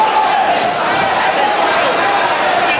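Loud boxing arena crowd roaring and cheering continuously, a dense wash of voices at close range with no breaks.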